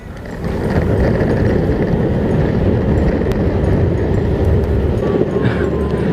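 Cheap electric skateboard rolling at full speed, giving a loud, steady rumble of wheels on pavement with wind noise that swells in at the start and holds, close to the rider, no talking.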